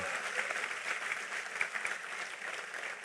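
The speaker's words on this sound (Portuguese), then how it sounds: "Aplauda ele" A church congregation claps during a sermon, a faint, steady patter of applause heard from a distance for a few seconds.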